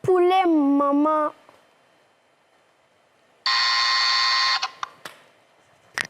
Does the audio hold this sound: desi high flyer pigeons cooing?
no